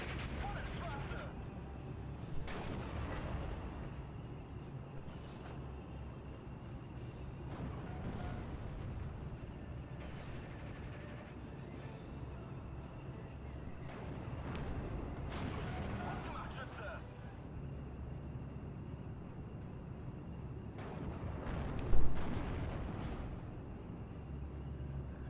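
Tank and artillery gunfire thuds in the World War II strategy game Steel Division: Normandy 44, distant booms and rumbling shots scattered over a steady battle bed, one sharper blast near the end, with someone talking throughout.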